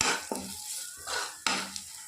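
Mushroom-potato masala sautéing with turmeric and Kashmiri chili, a close sizzle broken by a few sharp scrapes of a spoon stirring the pan, with no voices.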